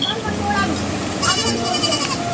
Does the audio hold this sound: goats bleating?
yes